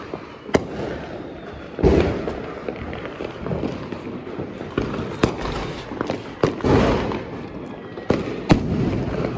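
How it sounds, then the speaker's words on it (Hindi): Sharp Diwali firecracker bangs burst out irregularly, some isolated cracks and some clustered pops, loud and close against a windy outdoor background. "क्या अब यही तो बचा है तेरा पटाखा एक बस"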